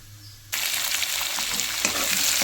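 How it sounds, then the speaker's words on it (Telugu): Chopped onions, carrot and green chili tipped into hot oil in a pan for semiya upma, with a sudden loud sizzle that jumps up and holds steady, plus faint stirring scrapes. "ఇప్పుడు మనం కట్ చేసుకున్న ఆనియన్స్, క్యారెట్, మిర్చి అన్నీ ఇప్పుడు ఇందులో వేసుకుందాం."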